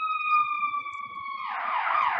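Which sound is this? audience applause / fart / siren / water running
siren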